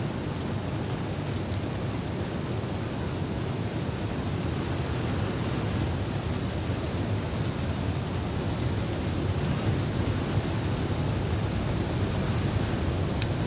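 Powerful waterfall in the survival video game The Long Dark, a steady, dense roar of rushing water that holds constant and loud throughout with no talk over it.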